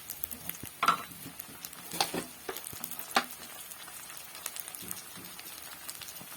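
Whole spices, cardamom, cloves, cinnamon and bay leaves, sizzling in hot oil in a pan while being stirred, a steady close crackle with a few scraping strokes, no talk.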